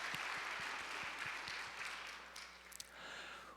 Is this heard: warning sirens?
no